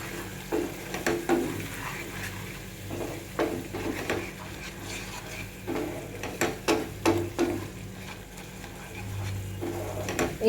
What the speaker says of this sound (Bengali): এই সব মশলাগুলোকে খুব ভালো করে মিশিয়ে নেবো